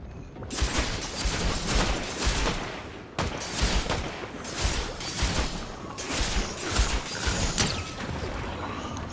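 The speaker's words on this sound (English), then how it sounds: "You want to start shooting them?" Gunfire rings out in the Fortnite video game as dense, rapid volleys of shots in overlapping bursts, loud and nearly continuous with a brief break partway through.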